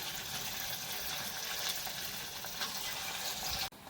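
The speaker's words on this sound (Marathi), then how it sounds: "छोटे छोटे सोडायचे आणि मिडियम गॅसवर आपल्याला ते तळून घ्यायचे" Small fasting bhaji fritters sizzle steadily in hot oil over a medium gas flame, a dense continuous hiss close by with no talk.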